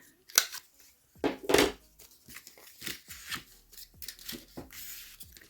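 A few quick scissor snips, close and crisp, separated by short pauses and light handling noises.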